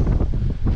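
Strong storm wind gusts buffet the microphone on a Scottish mountain summit during Storm Babet, a loud, rough low roar surging and dipping over a brief moment.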